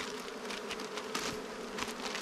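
Honey bees in a new hive, a dense continuous buzz of many insects close by with flickering swells of wingbeats, no voices.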